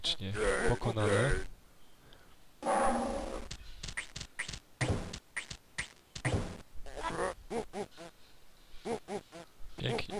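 Dog-like creatures in the 1996 video game Jurassic War yelp, whimper and growl in short bursts, with someone talking over the game sounds throughout.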